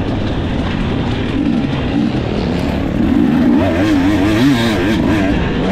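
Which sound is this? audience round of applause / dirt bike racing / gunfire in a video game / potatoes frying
dirt bike racing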